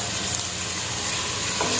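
Onion sautéing with salt in a pan for a village-style chicken biryani, a steady close sizzle and crackle of frying with faint stirring, continuous for about two seconds with no voices.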